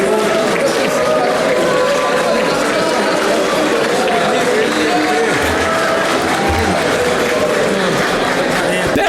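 Applause from lawmakers fills the Chamber of Deputies during a session. It is a dense, steady wash of clapping blended with crowd murmur and voices that lasts the whole stretch.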